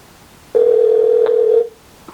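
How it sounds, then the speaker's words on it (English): A telephone line gives a single steady electronic tone lasting about a second after a call is dialed, loud and close, then cuts off into quiet. "See if he gonna answer the phone here."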